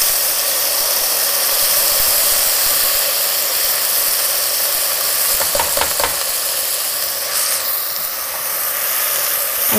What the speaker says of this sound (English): And we stir briskly along with the salt.